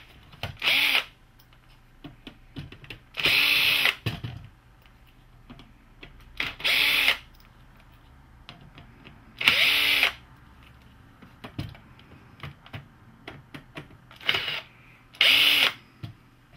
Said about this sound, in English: I'll just take these six screws off here